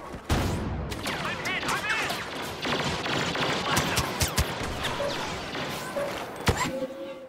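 Clustered burst gunfire from the Star Wars Battlefront shooter crackles at moderate distance in repeated short volleys with sharp cracks, over a busy battle din and faint voices.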